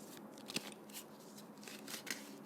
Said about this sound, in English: this is how a true fortune teller shuffles cards.